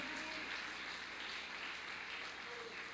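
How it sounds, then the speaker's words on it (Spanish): Church congregation clapping in praise during a Spanish-language sermon, a faint, steady wash of applause heard from a distance in a reverberant hall. "Dele con todo su corazón ese aplauso al Señor."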